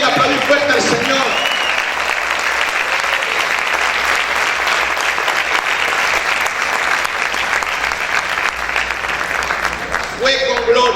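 A church congregation claps loudly and continuously, a thick wall of applause that fills the room for about ten seconds before a voice returns at the end.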